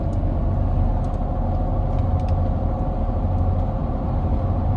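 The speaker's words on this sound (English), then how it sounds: "Now the tires are very loud here with these aftermarket tires, aftermarket wheels, the lift." Lifted 2017 GMC Sierra 1500 Elevation V6 on aftermarket wheels and tires, cruising with a loud steady tire roar and low road rumble filling the cabin, constant with no pauses.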